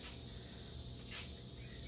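Cicadas drone steadily through late September in Chicago, a continuous high buzzing held at moderate, even loudness, with a brief swell in intensity partway through and no voices present.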